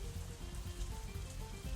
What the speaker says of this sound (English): it's still raining outside when we exit the Shanghai, though it seems to be letting up a little